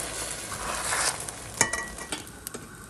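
An egg torta fries in a pan with a soft, constant sizzle while a utensil stirs it, giving a few sharp scrapes and taps against the pan toward the end; no voices.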